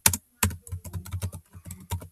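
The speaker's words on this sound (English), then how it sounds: "I just like typing." Rapid typing on a computer keyboard, bursts of close, crisp key clicks in an uneven rhythm with short pauses, fairly loud and with no talking.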